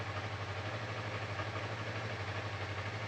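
A 2024 Yamaha MT-03 motorcycle idles, a steady low, faint throbbing engine hum with an even pulsing rhythm and slight mechanical clatter, with no voices.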